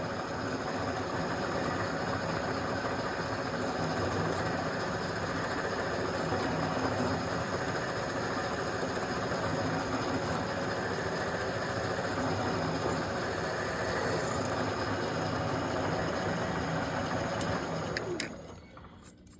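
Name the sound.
drilling a starter hole with a machine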